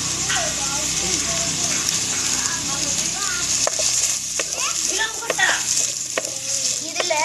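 Onions sizzle in oil for a sardine curry while a utensil stirs and scrapes the pan, with occasional sharp clacks. Voices talk over the cooking throughout.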